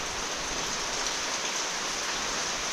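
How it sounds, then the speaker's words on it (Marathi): A steady downpour of heavy unseasonal rain in a Konkan village hisses evenly throughout, a broad, constant wash of falling water without pauses or voices. "एवढा पाऊस पडतोय."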